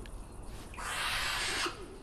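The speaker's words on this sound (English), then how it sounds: "The unmistakable call of the young of her own kind from an owl breeding box" Young owls in a breeding box give a long, raspy hissing call, breathy and drawn out, in a quiet setting.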